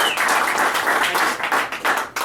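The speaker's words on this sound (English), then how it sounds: "You don't have to clap because you felt bad." An audience claps at a comedy show, a dense burst of applause that stays full and loud before thinning near the end.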